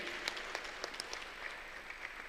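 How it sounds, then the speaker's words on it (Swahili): An audience claps steadily together at a community gathering, a faint, even patter of many hands with sharper individual claps popping through, heard at a distance and without speech. "Tumpigieni makofi tena."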